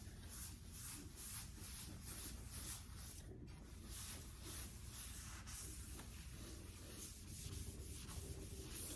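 Wax polish is rubbed by hand into a wooden piece, a soft rhythmic scrubbing and hissing friction in repeated strokes, quiet and close, with no talking.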